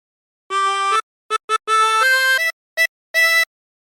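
A 20-hole tremolo harmonica plays the opening phrase of Wellerman, a handful of blown and drawn notes with short gaps, some long and some quick, bright and reedy, close and alone.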